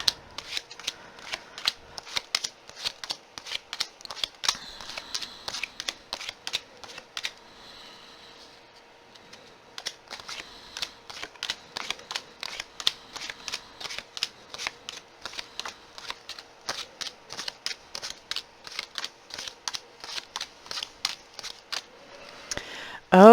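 Tarot cards are shuffled and laid down in a long run of crisp, rapid riffling flicks and soft slaps, close and fairly quiet, with a short pause partway through.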